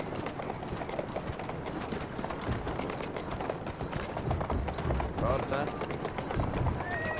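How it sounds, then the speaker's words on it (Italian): A horse gallops in Assassin's Creed Syndicate, its rapid hoofbeats drumming close and steady, while someone speaks in Italian over them. "Che cavallo obbediente che sei."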